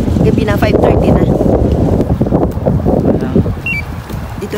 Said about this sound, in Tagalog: Medyo malamig na. Mahangin.